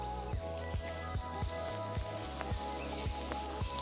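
Burger mince hits a hot kadai over an open fire and sizzles, a steady bright hiss with a regular ticking crackle running through it, close by and with no voices.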